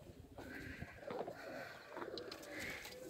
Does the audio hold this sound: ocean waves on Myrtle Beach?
no